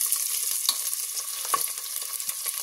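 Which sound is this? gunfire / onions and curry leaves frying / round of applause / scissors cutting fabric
onions and curry leaves frying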